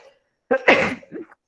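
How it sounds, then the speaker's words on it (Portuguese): A woman sneezes once, close and sharp, with a short breathy tail and no speech around it. "Não tem problema espirrar, né?"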